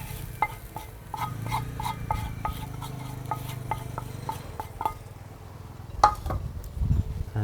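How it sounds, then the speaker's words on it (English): Spoon stirring spring onions into a simmering vegetable sauce in a pot, with a steady run of light clinks and scrapes against the metal, close and moderate, over a soft cooking hiss. "So what we do next, you know, is to add my spring onions here."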